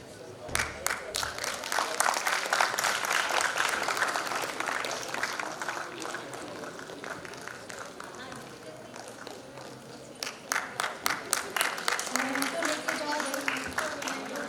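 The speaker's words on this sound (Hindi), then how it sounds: "जोरदार तालियां सर के" An audience at a homoeopathy conference claps for an honoured doctor, a sustained ripple of applause that swells again near the end, with a voice speaking over it.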